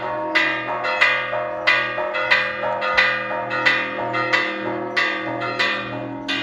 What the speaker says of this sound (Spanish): empezaron las campanas otra vez